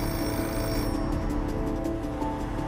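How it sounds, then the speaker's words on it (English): A telephone rings in a home shortly after midnight, a steady bell tone sounding continuously under a dense bed of dramatic music. "the phone rings"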